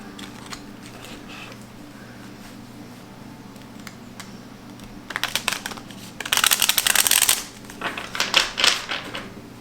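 Tarot cards shuffle loosely by hand close by, bursts of fast riffling clicks and flutters that begin quiet and grow denser and louder toward the end.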